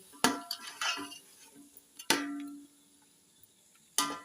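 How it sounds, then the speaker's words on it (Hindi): A spoon stirring chicken pulao spices in a metal pot, giving a few sharp clanks and scrapes spaced irregularly, close and otherwise quiet. "अब हम इसको अच्छी तरह से मिक्स करेंगे।"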